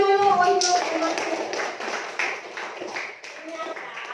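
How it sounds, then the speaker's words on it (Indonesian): Classroom students clapping together in a lesson on market functions, a dense spread of hand claps with voices mixed in, fairly loud and continuous before tapering off. "tepuk tangan dulu untuk promosi"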